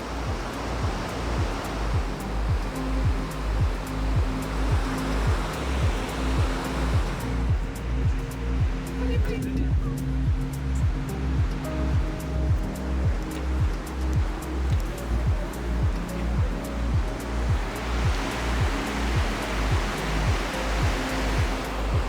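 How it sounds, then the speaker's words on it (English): Continuous rushing water of a waterfall roars steadily in the Rugova Valley, Kosovo, a broad wash of noise with a faint rhythmic undertone, no voices. "You can walk all the way down there to see the waterfall."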